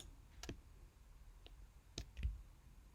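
A few sharp, light clicks from a computer mouse during image editing, spaced irregularly with a quick double click near the end, close and quiet against a soft room hum.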